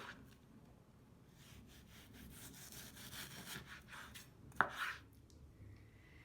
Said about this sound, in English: So this is a 14-ounce pork loin, and I am cutting thinly.